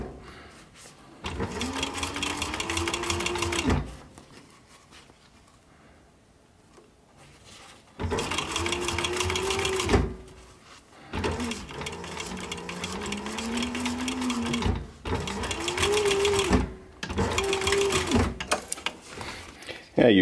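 A sewing machine runs in several long, steady bursts while stitching the seam-allowance layers of a short-brim cap's sweatband, each run separated by brief quiet pauses, close and fairly loud.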